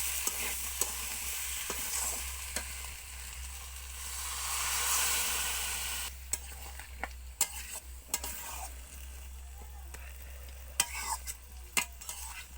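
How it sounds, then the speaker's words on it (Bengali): Pumpkin and Malabar spinach curry sizzles steadily in the pan after water goes in, a broad hiss that swells midway, with sharp clinks of a spoon stirring and scraping throughout, close and fairly loud. "এরপর দিয়ে দেবো জল।"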